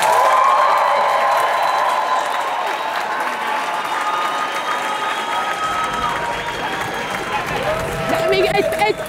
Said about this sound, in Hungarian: Nagyon gyorsan, egy nagy tapsot neki.